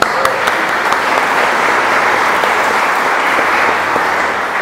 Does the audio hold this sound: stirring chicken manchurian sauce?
no